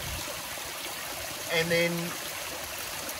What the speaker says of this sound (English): the water coming over our little spillway here